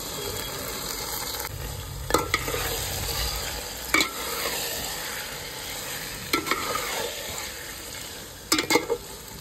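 Marinated meat frying in a pan, a steady close sizzle running throughout with a few sharp clinks and scrapes of a spoon stirring at intervals.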